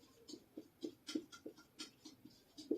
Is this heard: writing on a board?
yes